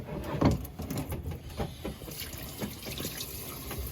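Tap water runs into a sink to wash freshly cleaned goose parts, a steady splashing stream with brief louder gushes and clatters, close by and alone.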